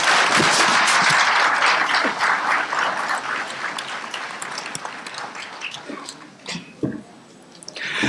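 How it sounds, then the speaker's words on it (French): A conference audience in Paris applauds a speaker, the clapping loud and dense at first, then thinning and fading over several seconds into scattered claps and a quiet tail. "Mesdames, Messieurs, vous avez le droit d'applaudir Maître Ablaye Touré."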